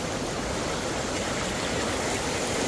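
A river flows toward Hulugan Falls in Luisiana, Laguna, a loud, steady rush of moving water that fills the whole short stretch without pause and with no voices.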